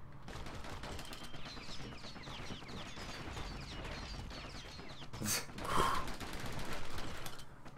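Pistol fire from the video game Bastion crackles in quick clattering bursts among mechanical clicks and game effects, with a brighter burst near the end.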